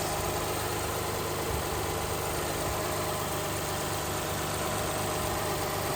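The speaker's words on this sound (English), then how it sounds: "I deliberately left my coffee cup on the engine so you can see how smooth the engine is and quiet the engine is." Lexus LS400 engine idles after a cold start, a smooth, quiet, steady hum with faint mechanical ticking and no voices.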